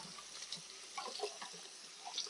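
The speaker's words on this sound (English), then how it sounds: "I want to get all my veggies all clean and washed up nice" Running water flows steadily from a tap as vegetables are rinsed under it, a faint, close splashing with small irregular spatters and no voices.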